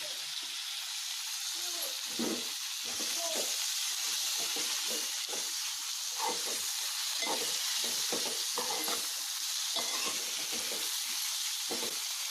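Chopped tomatoes, two large ones, hit a hot frying pan for a village-style bitter gourd masala curry, giving a steady bright sizzle with bursts of crackling and stirring throughout.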